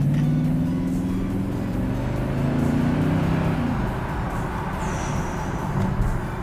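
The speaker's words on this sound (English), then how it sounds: "Let's just step on the throttle a little bit and see if we can hear it." A Mercedes ML63 V8 engine revs up under light throttle, producing a steady loud rumble with rising harmonic tones, then settling back into a continuous drone.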